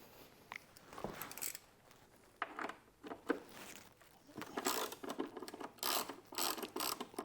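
A hand ratchet clicks in short bursts, loosening the 3/16 hex-head headlight bolts on a 2021 Harley-Davidson Road Glide, close-up metallic ratcheting with pauses between turns and no talking.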